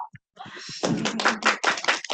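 Conference audience applauding, a few scattered claps at first and then a dense burst of clapping that builds for about a second and a half.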